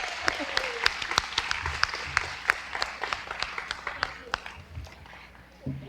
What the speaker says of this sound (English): So a special applause for them.